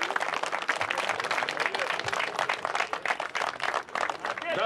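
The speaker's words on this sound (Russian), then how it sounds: "Давайте, друзья, бурными аплодисментами проводим бойца!" A fight-event audience applauds a departing fighter with brisk, uneven clapping that continues throughout, loud and close, mixed with some crowd noise.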